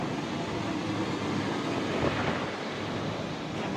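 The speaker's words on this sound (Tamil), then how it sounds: "மழை பெஞ்சிட்டு இருக்கு." Steady rain falls at night outside an airport in Sri Lanka, a dense, even broadband hiss that holds at the same level throughout with no voices.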